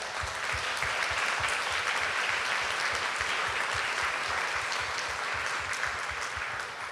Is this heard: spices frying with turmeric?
no